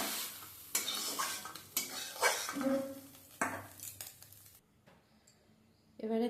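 Small fried shrimp lifted out of a pan with a metal utensil, brisk scraping and clinking strokes over a soft sizzle, then a quieter pause before a final clatter.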